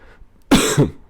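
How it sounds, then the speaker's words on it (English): A single harsh cough bursts out close by, with a second rougher hack right after, then quiet. "Still sick, still coughing."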